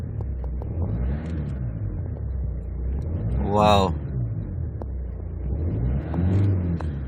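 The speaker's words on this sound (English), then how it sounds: "Let's try to accelerate." A 2008 Hyundai Santa Fe 2.2 diesel with automatic transmission revs up, its engine rumbling steadily before a brief rising surge of acceleration. A man's short exclamation is heard over it.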